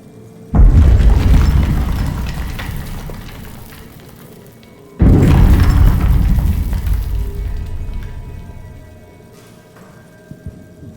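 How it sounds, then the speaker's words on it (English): Two heavy shelling explosions in the horror game Amnesia The Bunker, each a sudden loud boom that rolls into a long rumbling decay, a few seconds apart, with no voices. "a loud, explosive reminder that the war still rages outside, with shelling noises randomly interjecting things"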